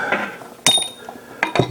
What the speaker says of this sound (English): my hammer and this brass were fighting.